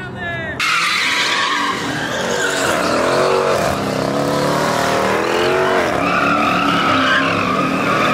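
A car drifts at a car meet, its tires skidding and squealing in long, continuous howls over a roaring engine, loud and close, while crowd voices carry underneath.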